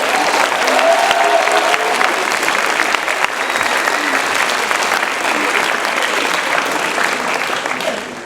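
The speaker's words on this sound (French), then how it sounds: "Donc je vous demande d'applaudir avec son petit lionceau" A concert audience applauds steadily and loudly throughout, a dense wash of clapping from a crowd at a Disney-themed student music show, tapering slightly at the end.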